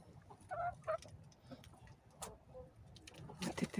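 Hens and roosters in a backyard flock cluck in short, scattered bursts at moderate distance, with a few sharper calls standing out over a low, steady background.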